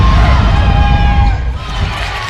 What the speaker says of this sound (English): Largest crowd of the season. Make some more noise.